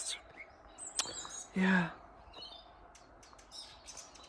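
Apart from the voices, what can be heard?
birds singing outside a cottage on a frosty morning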